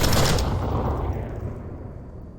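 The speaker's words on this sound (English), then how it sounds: "Definitely shot where Kanan would be, but Kanan was on the other side of the wall." A loud gunshot burst in the virtual reality shooter game Onward, followed by a long decaying reverberant tail, with no talk.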